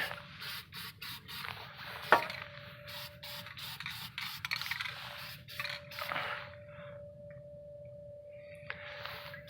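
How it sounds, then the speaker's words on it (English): Aerosol black paint sprayed onto the suspension under a 2009 Dodge Charger during a tie rod replacement, heard as several hissing bursts of varying length, fairly close, with a steady tone running underneath. "I'm just gonna throw a little black paint on it."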